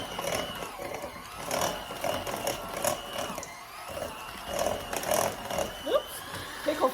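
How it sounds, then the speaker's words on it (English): Electric hand mixer whirring steadily as it blends dill pickle egg roll filling in a bowl, close and fairly loud, with a continuous motor drone and rhythmic pulses as the beaters move through the mixture. "I'm going to get my hand mixer. We're going to go ahead and mix this all together"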